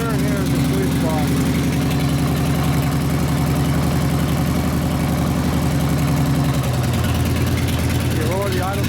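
A Harley Evo engine on a custom rigid chopper idles steadily and loud throughout, its low throbbing pulse shifting in pitch near the end as the idle speed is lowered.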